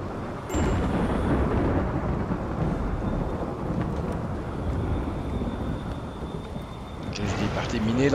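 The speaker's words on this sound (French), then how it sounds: "Allez, il va y avoir des éclairs." Thunder booms during a storm in RimWorld, a loud sustained rumble with rain and wind rolling through for several seconds before a brief pause and another swelling crash near the end.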